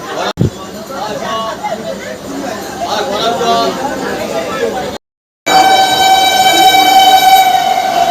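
Busy platform at Panskura station where the Digha local waits, with crowd chatter and voices under a rail-yard hum, then after a brief gap a loud, sustained train horn blares for several seconds.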